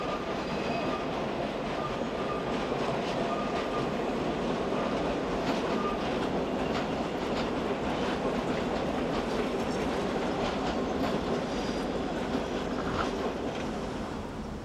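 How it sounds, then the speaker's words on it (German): An old electric S-Bahn railcar on the Hamburg network runs steadily, its wheels clicking and rumbling over the rails with a constant roar throughout, heard from nearby. "Die 40 Altbautriebwagen werden auch weiterhin intensiv im Hamburger S-Bahn-Netz eingesetzt."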